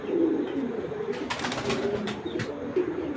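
High-flying Giribaz pigeons coo in soft repeated throaty bursts close by, with wing flutters and faint rustling in the background and no speech.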